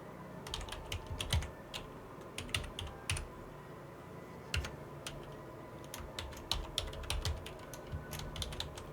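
Someone types on a computer keyboard to sign in, soft irregular key clicks in quick clusters with short gaps over a faint room hum, no talk.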